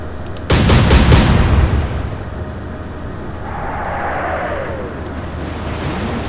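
Naval guns fire in the Atlantic Fleet game, a quick loud salvo of several booming reports, then a long rumbling roar and distant whistling as shells fly out.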